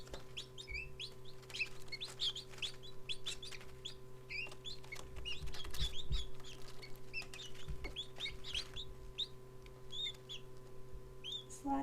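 Guinea keets cheep in a steady flurry of high, thin calls close by, over a constant low hum.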